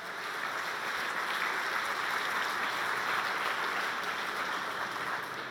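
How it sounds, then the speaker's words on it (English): An audience applauds at the closing remarks of a conference, a steady, dense wash of many hands clapping that holds evenly throughout, moderately loud and with no voices standing out. "Please applause for my distinguished colleagues as well."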